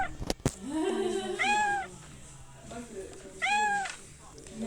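A house cat meows twice in a bedroom, two clear rising-and-falling calls spaced a couple of seconds apart, heard over low room noise with a sharp knock near the start.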